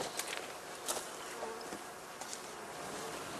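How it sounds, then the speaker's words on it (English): Honeybees on their spring cleansing flight buzz around a heather skep apiary, a steady faint hum of many insects with occasional louder passes of single bees close by. "Now it is time for the cleansing flight, during which the bees rid themselves of the excreta from their winter feed"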